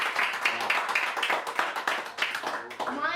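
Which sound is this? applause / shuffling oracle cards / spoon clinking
applause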